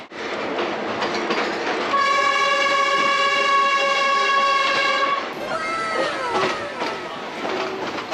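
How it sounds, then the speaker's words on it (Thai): A third-class passenger train in Cambodia rolls along the rails with a steady rumble and clatter, a long sustained horn blast sounding midway before fading back into wheel noise and squeals. "ตอนนี้รถไฟก็เริ่มชะลอแล้วนะคะ แปลว่าใกล้ถึงแล้วนะคะ"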